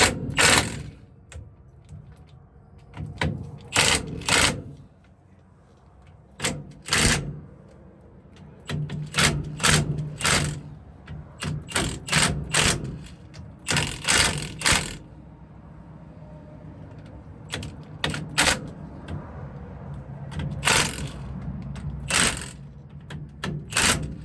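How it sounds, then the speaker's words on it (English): An impact wrench tightens the differential cover bolts on a 1998 Dodge Ram in short, repeated rattling bursts of hammering with brief pauses between them, close and fairly loud. "I'll tighten whatever I can by hand with the impact"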